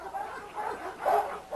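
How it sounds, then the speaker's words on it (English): A small, calm pit bull female gives a few short yips and whining barks in uneven bursts, close by and moderately loud. "This is our little dog that we call Scarlet."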